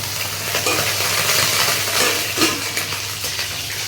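Ingredients for coriander chutney sautéing in hot oil, a steady, fairly loud sizzle with occasional stirring scrapes and a low background hum, and no talking.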